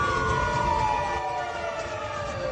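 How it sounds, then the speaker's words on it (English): A wailing ambulance siren sweeps slowly downward in pitch, loud and fairly near, over a low rumble of traffic. "as soon as they hear the siren of ambulance."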